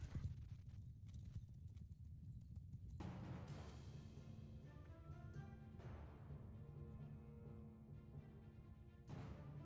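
Cavalry hooves from horse archers in Mount & Blade II: Bannerlord thunder in a dense, continuous gallop, loud and close, with a sharp clash and game sounds layered over the steady clip-clop rhythm.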